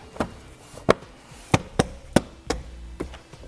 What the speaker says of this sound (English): Put my scuff panel back in place.